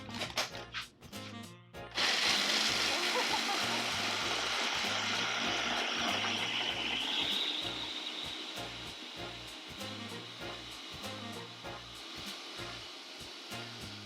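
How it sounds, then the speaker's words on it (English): A kitchen blender grinds walnuts in a loud steady whirring roar after a few brief starting knocks, the motor pitch shifting slightly as the nuts break down and the noise eases a little toward the end. "And we're gonna blend it."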